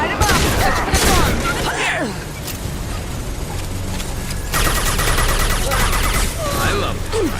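Rapid gunfire from the video game Mass Effect 2 crackles in dense bursts and volleys with booming impacts, loud and continuous through a combat scene, with game dialogue voices mixed in.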